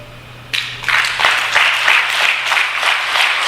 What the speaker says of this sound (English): Can you clap once?